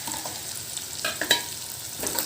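Onions going into a pan of fried potatoes sizzle steadily, with a few close stirring scrapes and brief clicks of the spoon against the pan.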